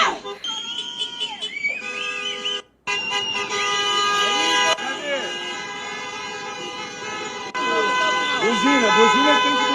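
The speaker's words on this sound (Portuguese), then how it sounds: "Buzina, buzina tem que buzinar." Several car horns honk in overlapping toots of different pitches, some long and some short, amid a noisy street protest crowd with voices in Brazil.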